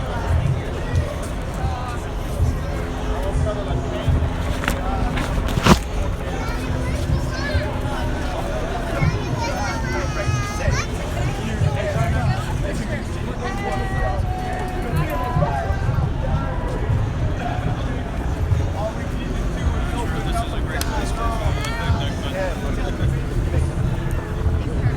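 A large outdoor crowd at a Berkeley rally fills the scene with constant babble, with nearby voices talking over the hum and a few sharp knocks.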